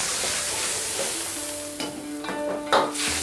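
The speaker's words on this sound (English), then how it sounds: "And stir fry for a few minutes until it's boiled." Sauce with white vinegar and tomato ketchup sizzles steadily as it is stir-fried, with scrapes and bursts of stirring breaking through the continuous close frying hiss, no talk.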